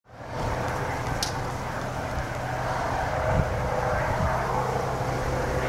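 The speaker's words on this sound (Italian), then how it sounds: "Da Napoli è giunto anche un elicottero che si rifornisce di acqua marina nella suggestiva Baia dei" A firefighting helicopter flies over Baia dei Maronti on Ischia to scoop seawater during a wildfire. Its engine drones steadily and fairly loud, with wind buffeting throughout and no voices.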